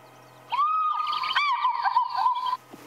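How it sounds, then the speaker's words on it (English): African fish eagle call played from an electronic device on a sunrise safari in Sabi Sand, a loud, ringing, yelping cry lasting about two seconds, alone against a quiet background. "that was the sound of a fish eagle"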